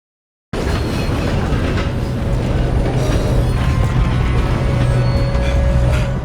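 A train in Red Dead Redemption 2 rolls along the rails, a loud steady rumble with rhythmic clatter, starting abruptly after a brief silence and continuing without talk.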